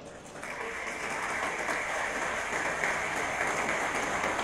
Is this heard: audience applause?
yes